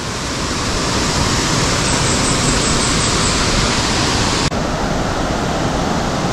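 A waterfall in Zamboanga del Sur, Philippines roars as a loud, steady broadband rush of falling water, constant and close, with no voices over it.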